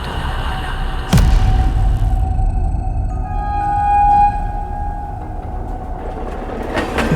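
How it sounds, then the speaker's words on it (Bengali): A loud train horn sounds in a dark rail yard by a lakeside, a long sustained tonal blast swelling over the low rumble and clatter of an approaching train, with no voices. "একটা তীব্র কান ফাটানো ট্রেনের হর্ন শোনা গেল"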